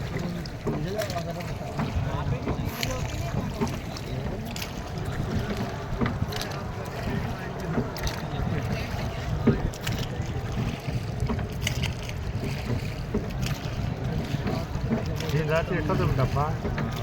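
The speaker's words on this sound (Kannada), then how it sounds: "ನಾವು ಈ ಬೋಟ್ನಲ್ಲಿ ಹೋಗ್ತಾ ಇದ್ದೀವಿ" Boat ride on the river at Triveni Sangam, with a steady low rumble of the boat and wind over the water running continuously beneath people talking.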